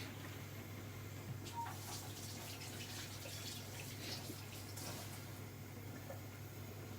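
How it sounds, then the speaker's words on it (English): Running tap water splashes steadily over hands at a kitchen sink, a continuous broadband rush that stays even and moderately loud for the whole stretch, with no voices. "just going to wash my hands"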